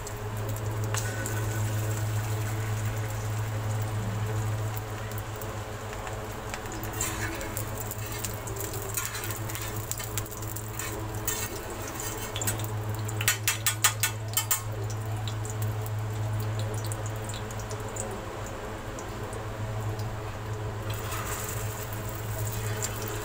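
Egg-coated shami kebab patties frying in a pan of oil for burgers, giving a steady broadband sizzle throughout with a constant low hum and a few brief crackling bursts near the middle.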